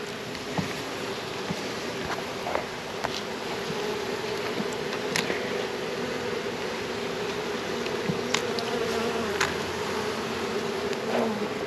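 Honeybees hum steadily around an open hive holding capped and uncapped honeycomb, a dense continuous buzz with individual bees passing close by in brief louder swells.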